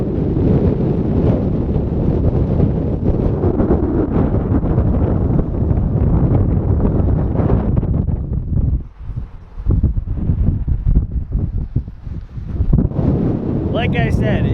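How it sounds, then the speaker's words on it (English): Strong wind buffeting the microphone by the water beside a lifted Ford F350 Powerstroke, a dense roaring rumble that dips briefly midway, with faint voices mixed in. "it's windy here"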